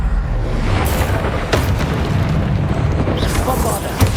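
A Confringo fire spell blast from Hogwarts Legacy on PS5, heard as a loud, sustained booming roar of explosive rumble with a sharper burst near the end, game voices mixed in underneath.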